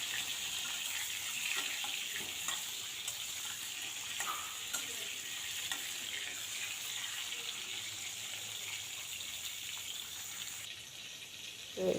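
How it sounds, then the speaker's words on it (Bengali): Pointed gourd (potol) frying in a pan, a steady broad sizzle of hot oil running continuously throughout with faint scraping stirs, close and moderately loud, no voices. "তো আমি ভালো করে পটলটা এখন ভেজে নিচ্ছি।"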